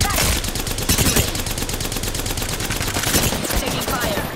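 Dense automatic gunfire from a shooter video game, loud and continuous rapid bursts crackling throughout with no pauses, close and dominant over everything else.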